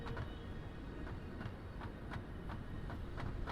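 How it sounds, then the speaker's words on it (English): A train rolling along in the video game Satisfactory, a faint steady rumble with regular soft clicks from the wheels, heard alone without talk. "So we have a train."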